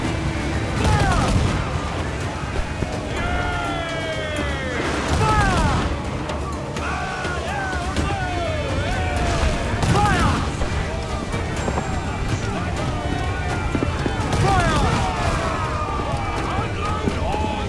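Ship broadside cannon fire during an Assassin's Creed IV Black Flag naval battle, heavy booming volleys amid constant battle din, with shouting voices over the firing.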